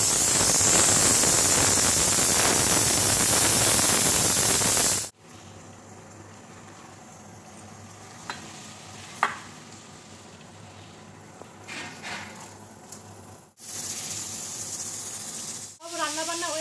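Pressure cooker hissing loudly and steadily as it vents steam while mutton cooks with potatoes and water, running for about five seconds, then cutting off to quiet with faint background sounds before a second short burst of hiss returns.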